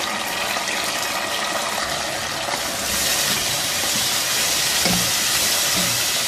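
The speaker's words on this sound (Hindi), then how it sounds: "अब इतनी देर तक इसको भून लेंगे कि ये बिल्कुल खुश्क हो जाए" Mutton pieces frying in a pot for Peshawari namkeen gosht, giving a steady, dense hiss and bubbling sizzle as the water cooks off, close and continuous throughout with a few brief louder spits.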